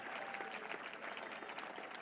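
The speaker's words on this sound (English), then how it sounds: "Give yourselves a big round of applause." A graduating high school class of 2009 applauds themselves at the Mamaroneck High School commencement, a steady, dense wash of many hands clapping together throughout.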